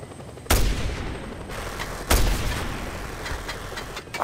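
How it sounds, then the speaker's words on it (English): Two heavy video-game gunfire bursts from enemies in Just Cause 2 crack loudly, one around half a second in and another near two seconds, each trailing into a rumbling decay, with fainter shots scattered afterward. "Stop shooting at me."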